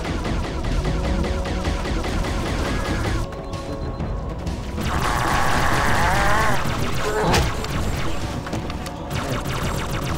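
Turret gunfire in the video game Project Lumoria rattles in steady rapid bursts, with sharp crashes and a tonal whine partway through, loud and continuous amid game effects.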